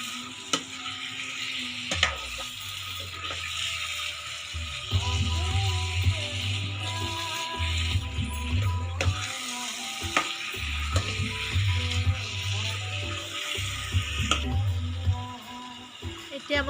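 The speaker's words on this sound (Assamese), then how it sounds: "এতিয়া মই ইয়াতে মাংসখিনি বহাই দিম।" Chicken pieces for a village-style Assamese curry fry in a pan while being stirred, a steady sizzle under repeated scraping and clinking stirs, with some brief talk in between.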